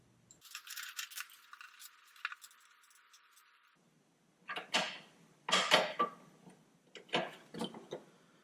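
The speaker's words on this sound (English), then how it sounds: "we don't need this bracket that held it, so let's go ahead and take that off too" Metal parts tick and rattle in quick clusters of clicks, first faint and then louder, as the windshield washer reservoir bracket is removed from a Dodge Challenger.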